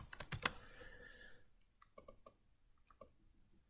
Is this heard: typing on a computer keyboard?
yes